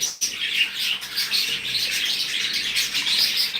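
Pet yellow birds in a free-flying aviary chirp and twitter continuously, a dense high chorus of overlapping calls close by, with no talking.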